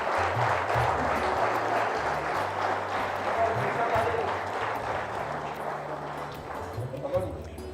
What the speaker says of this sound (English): I think we should be louder in our applause